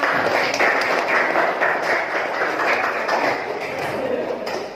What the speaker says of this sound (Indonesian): Boleh atuh tepuk tangan ya